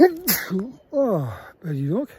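A person sneezes with a short sharp burst outdoors at a van parking spot after a mountain hike, followed by a spoken exclamation.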